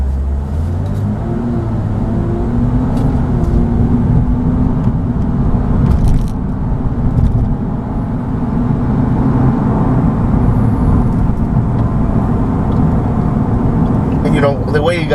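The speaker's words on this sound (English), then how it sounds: "The way you guys are hearing it, I haven't really done any sort of performance mods or anything to this car." Stock, unmodified 2014 Lexus IS350 F Sport engine running while driving: a steady low rumble and drone with road noise, held at a constant loud level throughout with no talk over it.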